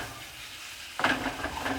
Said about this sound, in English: So just brown up this pork, okay?